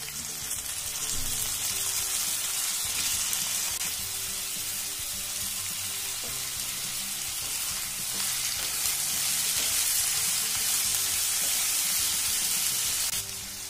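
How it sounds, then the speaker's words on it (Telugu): Brinjal pieces fry in a pan with ginger garlic paste for an Andhra-style masala curry, giving a loud, even, continuous sizzle with faint stirring throughout and no voices. "ఇప్పుడు ఇందులో వంకాయ ముక్కలు వేసుకోవాలి"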